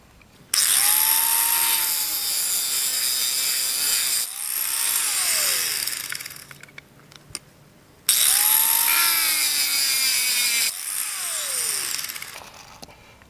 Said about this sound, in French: on donne tout simplement un petit coup à tous les galets, un petit coup de meuleuse, de disqueuse comme ça.